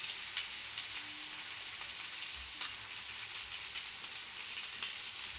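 Spice paste with salt fries in a hot pan for a spinach and egg curry, giving a close, steady hiss of sizzling with one soft clunk partway through and no voices.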